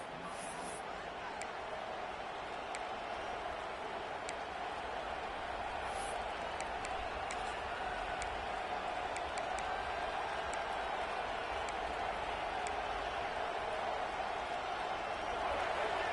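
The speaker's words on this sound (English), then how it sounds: "And this crowd coming to life here, trying to help the defense get a stop." Football stadium crowd cheering and roaring steadily as the defense tries to get a stop, a broad sustained wash of noise with a few claps and whistles on top, loud and continuous throughout.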